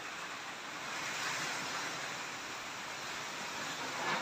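Strong wind from Typhoon Odette gusting steadily against the microphone, with a continuous roaring, surf-like rush that swells slightly in the middle and again at the end, and no voices.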